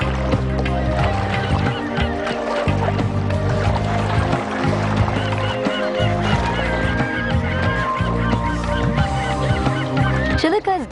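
Geese, including grey-lag geese, honking at Chilika wetland, a Ramsar lagoon with many other birds; repeated loud, close honks in an overlapping chorus over steady background noise, with a brief burst near the end.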